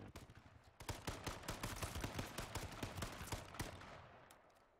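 Rapid bursts of video game gunfire crackle almost continuously for several seconds, loud and close, with dense repeated shots and no talking.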